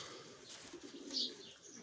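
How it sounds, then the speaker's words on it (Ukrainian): Mykolaiv pigeons cooing softly in a loft, a faint low coo rising briefly against steady background hiss, with no talking. "Ото голубенята бігають."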